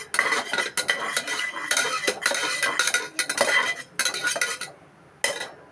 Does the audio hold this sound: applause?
no